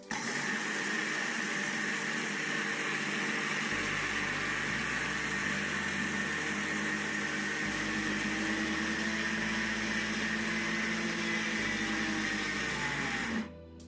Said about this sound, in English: you can use your blender to grind egusi